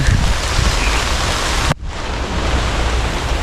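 Heavy rain pours down in a dense, steady hiss, briefly cutting out midway before resuming just as loud.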